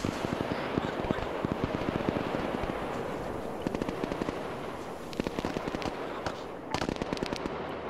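Rapid bursts of gunfire crackle through a video game firefight, dense repeated shots close by, with scattered louder cracks near the end and brief talk over the noise.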